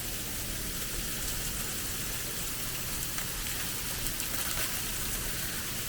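Dense, steady pattering of hail striking surfaces, a continuous hiss with scattered sharper ticks and no talking.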